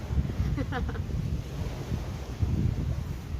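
Wind gusting outdoors during a twelve-hour power outage, a steady low rumble buffeting the microphone, with a brief faint voice partway through.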